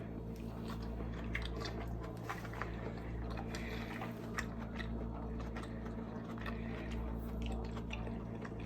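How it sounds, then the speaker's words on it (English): Someone eats raw carrots and cabbage up close, with quiet, steady crunching and moist chewing continuing throughout. No speech. "this is just a little bit of carrots and cabbage I'm about to eat now"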